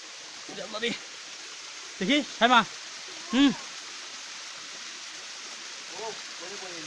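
A small stream deep in a hill-country jungle near Khagrachari flows in a steady, hissing wash throughout, with a few short bursts of people's voices over it.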